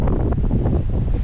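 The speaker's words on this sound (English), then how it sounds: "It is so windy." Strong wind gusting across a snow-covered stretch of the Arizona Trail during a fierce snowstorm, a loud, continuous roar and buffeting against the microphone with no voices.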